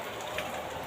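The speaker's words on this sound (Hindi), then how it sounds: "बारिश काफ़ी तेज थी" Dense, steady rain hisses on a surface, a continuous heavy downpour with no gaps.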